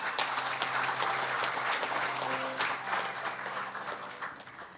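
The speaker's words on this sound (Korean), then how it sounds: "그간 공정한 심사를 해주신 심사위원 여러분들께 다시 한번 큰 박수 부탁드립니다." Audience applause for competition judges at a Korean academic award ceremony, a dense steady burst of clapping from a crowd, heard at a moderate distance for several seconds.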